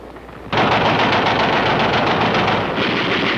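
Sustained automatic rifle fire in a Korean War setting, a loud continuous rattling burst that starts abruptly and runs unbroken for about three seconds, harsh and close.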